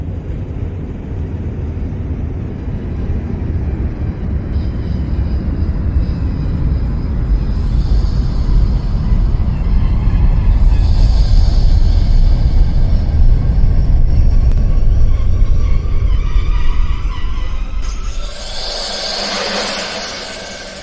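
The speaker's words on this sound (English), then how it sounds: "The Brooklyn-bound M local train." NJT ALP-46 electric locomotive hauling Comet cars in the OpenBVE train simulator game, a loud steady rolling rumble building and then easing, with a high whine throughout and brake hiss near the end.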